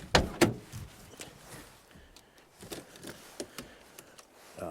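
A car's back door is popped open outdoors on a sunny day: a few sharp clicks and clunks of the latch and handle up front, then scattered softer knocks and rattles, fairly quiet and close.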